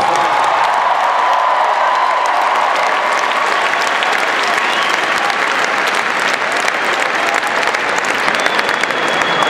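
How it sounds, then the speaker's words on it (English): Loud, steady applause from a large crowd of students at a THON dance marathon event, sustained throughout with dense clapping and a few scattered cheers mixed in. "Give yourselves a round of applause."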